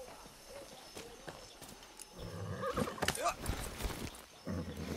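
A horse in the Far Cry 6 video game clip-clops and whinnies amid game sound effects, with the hooves and a neigh growing busier and louder toward the middle.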